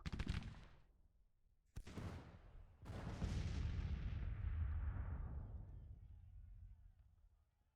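Heavy Civil War-era gunfire and cannon booms in Grand Tactician: The Civil War during the Siege of Chattanooga roll out as three loud volleys, the last one sustained and rumbling before slowly fading.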